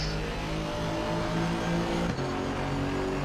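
Sim GT race car in Assetto Corsa Competizione running at steady high revs with a dense, continuous engine drone, a brief dip near the end where the exhaust crackles on a downshift before the engine picks back up.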